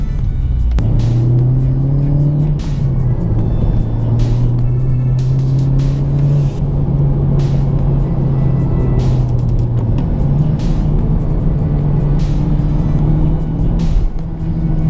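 A Honda Civic Type R engine drones steadily and climbs in pitch as it accelerates on a wet road in the rain, with a constant hiss of tyres throughout.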